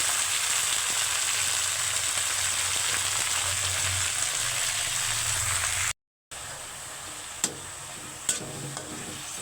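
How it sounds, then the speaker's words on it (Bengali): Mixed leafy greens fry with onion, garlic, green chilli and salt in a pan, giving a steady close hiss and sizzle with a few sharp clinks of a spatula near the end. "ছাদের 5 মিশালি শাক ভাজা করা হচ্ছে।"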